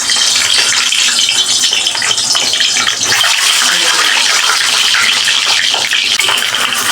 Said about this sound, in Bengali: হালকা করে আমি ডিমটা ভেজে নিচ্ছি।